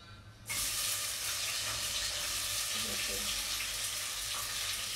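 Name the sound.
onions added and frying in pan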